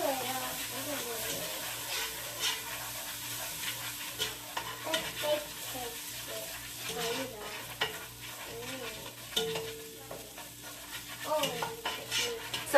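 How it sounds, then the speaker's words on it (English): Flour being stirred into melted butter in a pot for a roux, soft scraping and light sizzling with small clinks of utensil on metal, fairly quiet, with some talk in the background. "we're going to dump the flour in. And we're just going to give this a nice little mixture."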